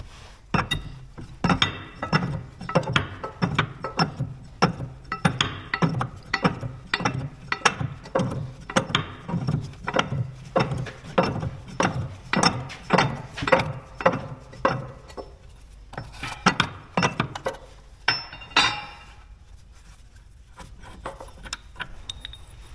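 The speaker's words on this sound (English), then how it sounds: "let me get this nut off here" A wrench works loose a nut on the track frame of a Dresser IH TD-25G bulldozer, giving a long run of steady, close ratcheting clicks with metallic clinks, pausing briefly near the end.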